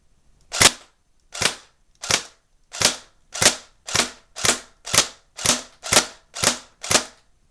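Crosman Pulse R76 airsoft gun on semi-automatic, twelve sharp single shots fired at a steady pace of about one every half second, close and loud with nothing else heard.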